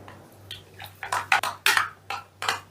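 A utensil clinks and scrapes against a bowl while an egg is beaten into a flour and cornflour batter, giving several quick, separate knocks at an uneven pace, close and clear.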